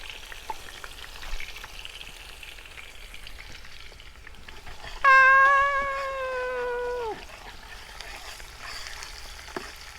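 Onion frying in a pan over an outdoor wood fire in a forest, a steady close sizzle with a loud tonal cry rising over it for about two seconds mid-clip.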